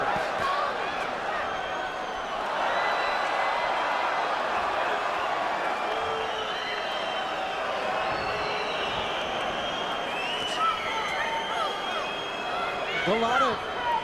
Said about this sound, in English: Crowd's starting to get, I think, a little bit antsy with Chris Byrd.